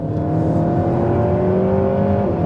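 An Alpine A110 R sports car driving fast on a track, its engine giving a steady, loud droning hum with a slowly shifting pitch, heard from close by.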